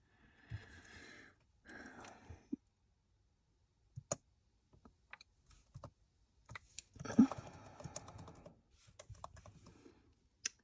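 Quiet, scattered typing on a computer keyboard as a spreadsheet is updated, with short clusters of clicks and taps separated by pauses, close and soft.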